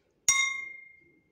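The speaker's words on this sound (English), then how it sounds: "if we fill more water into a glass, the sound that comes out of it will be low" A glass partly filled with water is struck once, giving a bright clear ring near the listener that sustains and slowly fades for about a second in a quiet room.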